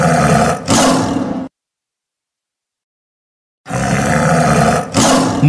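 Cartoon tiger roar, loud and close, in two broad growling bursts separated by a couple of seconds of silence.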